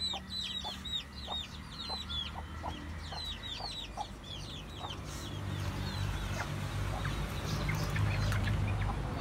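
Rhode Island Red chicks peep in quick high bursts while the mother hen clucks low and soft nearby, over a steady outdoor farmyard background, with no talking.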